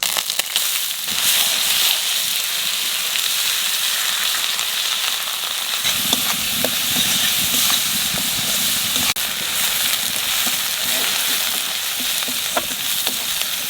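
Onion paste frying in hot oil with bay leaves, cloves, cinnamon and cardamom for a Bengali potol chingri dish: a loud, continuous sizzle with crackling pops throughout, no talking.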